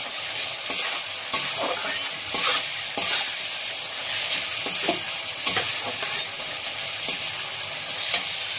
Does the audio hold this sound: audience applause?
no